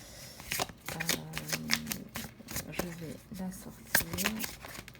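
Tarot cards being shuffled and drawn from a deck, a run of quick crisp riffling flicks and snaps close by, with someone speaking over them.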